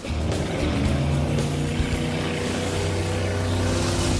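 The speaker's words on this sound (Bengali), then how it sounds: "ও ওরা তো জলের মধ্যেই ড্রিফট করছে, পুরো ডোনাটের মতো লাগছে।" Several amphibious cars drift in circles through water with a steady, close engine drone and a constant hum that holds at one level throughout.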